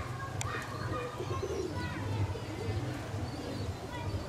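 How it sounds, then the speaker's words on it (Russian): Pigeons coo while being flushed into flight, low soft cooing repeated under background noise, with a couple of brief higher chirps and someone talking nearby. "главный тренер Витя поднял голубей"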